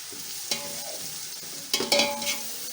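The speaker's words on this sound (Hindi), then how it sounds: "दही डाल के थोड़ा सा मसाला भूनूँगी" Masala with yogurt stirred and frying in a pan for seekh kabab pulao, soft steady sizzle with a few sharper scraping stirs, close and moderately loud, no talking.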